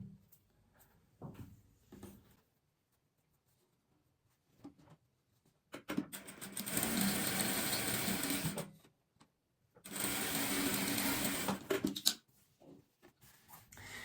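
A sewing machine stitches a 3D quilted bedspread block in two bursts of steady mechanical whirring, each a few seconds long, separated by quiet pauses with faint handling clicks, close and unaccompanied by talk.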